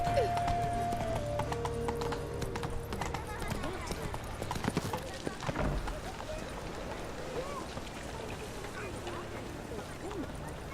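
Hoofbeats of Geralt's horse Roach in The Witcher 3 clatter in a steady clip-clop rhythm through a game scene, set against background music, ambient noise and voices talking.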